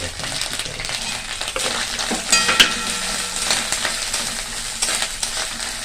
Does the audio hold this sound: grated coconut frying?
yes